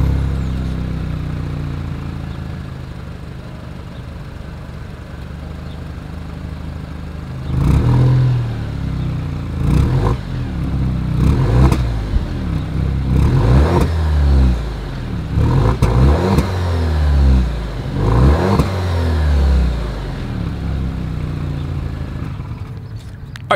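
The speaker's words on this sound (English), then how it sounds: "As always, here is that exhaust clip." A 2021 Alfa Romeo Stelvio performance SUV revs its exhaust in a series of sharp, loud throttle blips after a steady idle, each rev rising and falling quickly, recorded close up with no talking.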